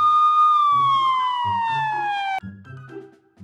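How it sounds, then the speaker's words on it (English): A police siren wails loudly in one long, slowly falling tone, then cuts off suddenly, leaving scattered low thuds. "Police motor."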